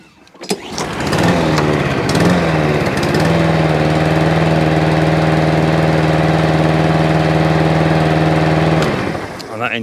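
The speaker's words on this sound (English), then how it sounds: "That engine's still going really strong too" A rebuilt lawn mower engine starts and runs at a steady, loud, close drone for several seconds, then cuts out near the end.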